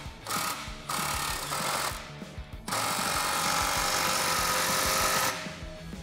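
Power tool driving a 15 mm socket to tighten 3-inch exhaust clamps on a 2016-2023 Camaro SS Borla cat-back system, several loud sustained whirring bursts with short gaps, close up and without talk.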